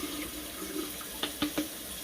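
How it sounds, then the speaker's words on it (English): Brine shrimp water and eggs being poured back into a jar, heard as a few short, quiet splashes and trickles over a low background hiss, with no talking. "I'm gonna pour that back into the jar."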